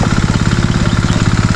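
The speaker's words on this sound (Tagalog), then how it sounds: "naandar na natin yung makina" A farm engine runs steadily at close range, a loud, continuous low chugging with a fast, even pulse and no pauses, no voices over it.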